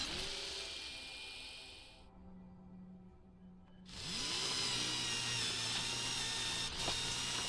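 A power drill whirs in a room, revving up, stopping briefly, then spinning up again and holding a steady loud whine to the end.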